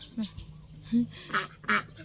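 Ducklings quack while teasing chickens, giving four or five short, nasal calls in an irregular rhythm, close by and fairly loud, over a quiet farmyard background.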